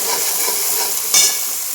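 Onions frying in a pan for an eggplant gravy, giving a steady close hiss and sizzle with one brief louder scrape of stirring near the end.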